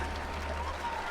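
A crowd claps at the 2019 Judo Grand Prix in Montreal: a dense, even patter of applause from the arena audience, moderately faint and steady over a short stretch.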